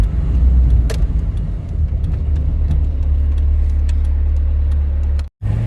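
A Renault Clio 1 engine runs loud and close from inside the car, holding a steady mid-pitched drone after a downshift to second gear, with a brief sharp cut near the end.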